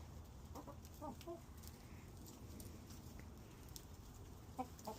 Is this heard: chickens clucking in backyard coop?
yes